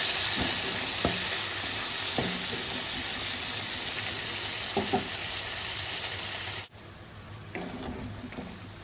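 Prawns fry and get stirred in a pan for chingri kosha, a steady loud sizzle with occasional scraping stirs, then a sudden drop to quieter sizzling near the end as the heat is lowered.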